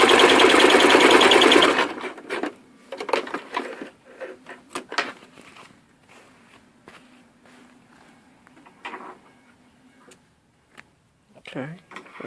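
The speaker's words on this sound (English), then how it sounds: "And sew across that 1/4 inch. Make sure you back stitch." A sewing machine back stitching across the seam of a zipper pouch makes a fast, buzzing run of stitching for about two seconds, then gives way to soft handling clicks and rustles under a person's speech.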